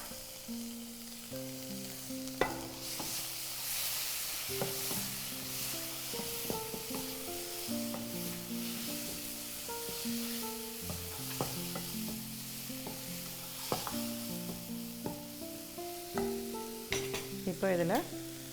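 Tomato and green chilli sautéing with fried onions in a pan, a quiet sizzle beneath background music, with intermittent stirring and scraping sounds.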